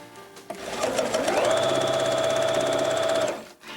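A sewing machine stitches quilt block pieces along a quarter-inch seam in one continuous fast whirring run of about three seconds, close and clear, then stops.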